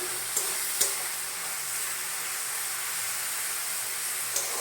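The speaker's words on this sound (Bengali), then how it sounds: "সবজিগুলো ভাজতে দিয়ে দিয়েছি সবজিগুলো এবার একটু ভেজে নিই হালকা করে" Vegetables fry lightly in a pan for fried rice, an even, steady hiss of sizzling oil running throughout with a couple of faint clicks, close and without speech.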